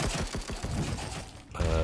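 Rapid gunfire from bullets in the video game Dysmantle, a fast run of close, evenly spaced shots that thins out before a short mechanical burst at the end.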